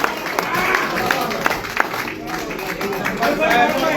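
Audience at a mushaira gathering bursts into applause, a dense patter of clapping hands mixed with crowd noise and voices, fairly close and steady.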